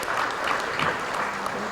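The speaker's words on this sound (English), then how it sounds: "can we give our panelists a round of applause and thank them for their time and their expertise in sharing" An audience gives a steady round of applause for the panelists at the close of a panel discussion, dense clapping that holds evenly for the whole moment.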